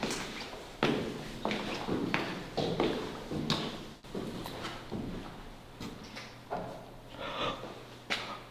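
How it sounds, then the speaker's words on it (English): An interior door in an old state penitentiary moves and knocks, heard as a series of sharp, fairly close thumps and taps at irregular intervals over a quiet room background. "Did you not hear that door just move?"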